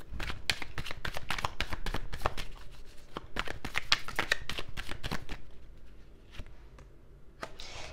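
Tarot cards are drawn and shuffled by hand at close range, a quick run of crisp papery flicks and slaps that thins out toward the end.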